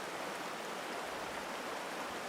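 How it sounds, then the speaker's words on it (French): Continuous rushing water of a flowing river torrent, used as background ambience in the fantasy film Elfhame, steady and full-bodied with no pauses or voices. "c'est un son continu d'eau et de mouvement et de torrent que l'on voit là en arrière-plan"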